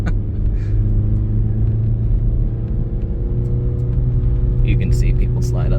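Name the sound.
2023 Acura Integra engine powering up a snowy hill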